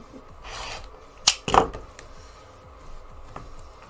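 Fabric quilt blocks being trimmed, a few short scraping cuts and rustles close by, with two sharper strokes in the middle and quieter handling around them.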